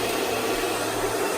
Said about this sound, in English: I'm allowing the hairdryer to just smoothen the hair out and push itself out